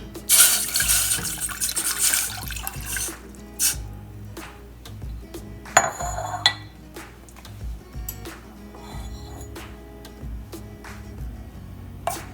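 Tap water running into a saucepan while making creamy cheese grits, a strong splashing rush in the first few seconds, then quieter kitchen clatter and faint trickling with no talk.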